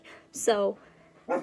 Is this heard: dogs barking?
yes